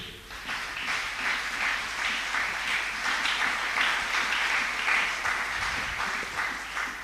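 A church congregation breaking into sustained applause, a dense, even wash of many hands clapping together at moderate volume for the whole stretch, with no voices standing out.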